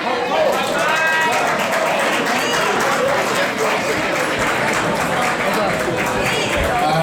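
A crowd at a World AIDS Day awards event applauds in a loud, steady wash of clapping. Cheers and voices mix in and keep going for the whole stretch.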